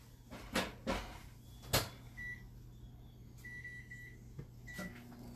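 A microwave oven set to a casserole programme hums steadily at a low pitch throughout, with several sharp clunks near the start and short beeps in the second half.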